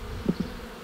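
Honey bees buzzing at a hive frame, a soft continuous drone with a couple of brief closer buzzes passing near, quiet and without talk.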